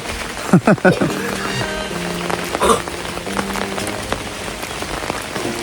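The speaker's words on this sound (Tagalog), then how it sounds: "Hindi na tumigil ang ulan." Steady rain patters on a surface close by, with a few sharp bursts and faint clatter early on and no speech over it.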